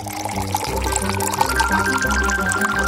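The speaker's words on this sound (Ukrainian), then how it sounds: "Давайте заліємо ємність повністю." Liquid is poured steadily into a container during a home cooking challenge, a continuous pouring wash lasting a few seconds with steady tonal background sound underneath.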